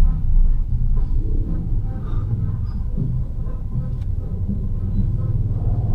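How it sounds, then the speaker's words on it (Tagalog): Street traffic on a road in Pasig, Philippines, near a parade during what may be a fiesta, heard as a continuous low rumble of car engines with passing vehicles, fairly steady and moderately loud throughout. "Traffic."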